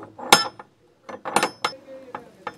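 A high-pitched metal door knocker on an old Iranian house door is struck a few times, giving sharp ringing clinks with short pauses between hits, close and clear.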